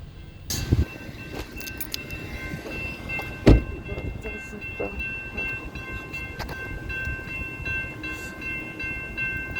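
A BNSF autorack freight train rolls past a road crossing, a steady rumble of railcars with metallic squeals and a sharp clank or two, heard at close range without any talk.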